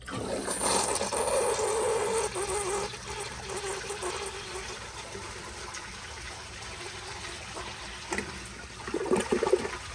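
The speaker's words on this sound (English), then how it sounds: "let's give it a flush and see how it does" A 2010 American Standard Baby Devoro toilet flushes: a loud rushing gush of water for about two seconds, then a quieter swirling drain and refill trickle, with a brief gurgling surge near the end.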